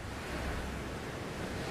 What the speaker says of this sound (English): As the winds get stronger, Karsten orders everyone into their survival